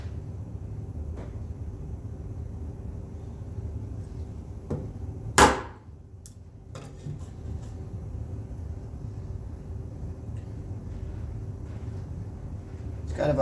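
A wood chisel cuts into a shelf being fitted to the sides of a spice rack, with one sharp, loud strike standing out above a steady low hum in an otherwise quiet workshop.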